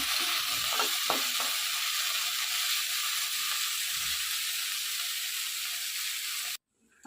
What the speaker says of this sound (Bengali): আর এদিকে চিংড়ি মাছটা ভেজে নিচ্ছি।